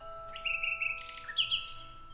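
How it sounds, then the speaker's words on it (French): A nightingale in a forest sings a short run of bright, close chirps and whistled trills, phrases shifting pitch in quick succession over a faint steady background tone. "Dans cette forêt vivait un rossignol dont le chant merveilleux charmait tous ceux qui l'entendaient."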